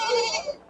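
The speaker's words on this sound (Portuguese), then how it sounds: "Ovelha aqui, ovelhinha parida." A single brief, wavering sheep bleat rings out close by at a busy goat and sheep livestock fair in Ouricuri, Pernambuco.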